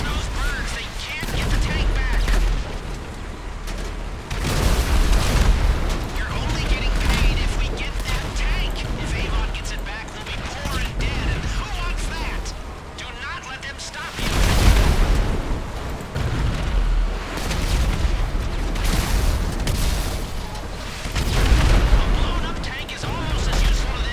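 Continuous bursts of gunfire and booming explosions roar from GTA 5 Online gameplay, with shooting from a helicopter, loud and dense throughout, with a voice speaking now and then underneath.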